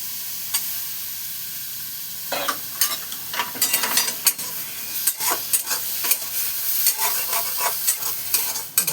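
Raw tamarind and tomatoes frying in a pan, a steady sizzle overlaid with frequent close scraping and stirring strokes that grow busier after the first couple of seconds.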